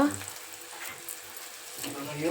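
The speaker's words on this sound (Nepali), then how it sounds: "प्याज चाहिँ फ्राई हुँदैछ" Onions and corn fry in a pan at home, a soft continuous sizzle at moderate level with faint clinks and a few low murmurs.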